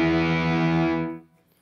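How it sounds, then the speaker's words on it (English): A guitar played through an XTS Atomic Overdrive pedal gives a single thick, heavily distorted note that sustains for about a second before it is choked off into near silence. "It's just a really heavy distortion."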